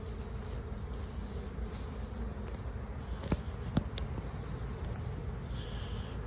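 Honey bees drone steadily in a dense, continuous buzz at a hive entrance during spring cleanup, close and even throughout with no talking.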